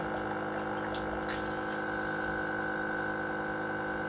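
Water runs steadily from a faucet or small pump while an airbrush used for decorating Halloween cookies with royal icing is rinsed out, a constant close hiss and gush that brightens partway through.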